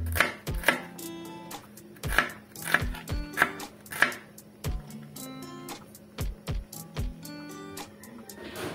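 Onions being chopped for pork ribs nilaga: a knife strikes a cutting board in close, irregular bursts of sharp taps with short pauses between runs, and no one speaks.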